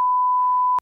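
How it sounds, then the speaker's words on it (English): Censor beep blanking out a spoken name: one steady, pure electronic tone lasting under a second, loud and clean, cutting off abruptly with nothing else audible. "we'll beep the name out"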